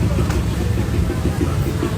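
Heavy congested traffic on a Philippine road, a constant rumble of idling and creeping car engines close by, steady with no distinct breaks, with faint voices mixed in.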